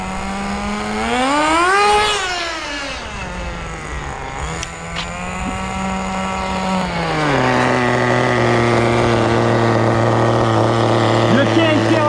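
A Thunder Tiger TS-4n vintage nitro touring car engine revs loudly, its whine sweeping up and down in pitch before settling into a high, steady buzz close by, with no talking.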